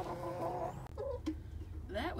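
A few farm chickens cluck at close range in short bursts, joined by a brief voice partway through.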